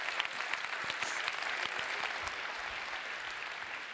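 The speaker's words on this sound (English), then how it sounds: "A very nice round of applause" Sustained applause from an audience at a real estate training talk, dense and even clapping that continues steadily throughout.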